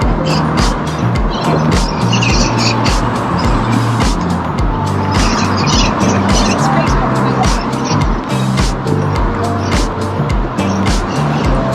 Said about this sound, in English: You can hear more traffic now.